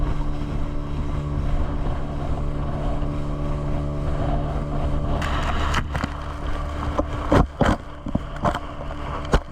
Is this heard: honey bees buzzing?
no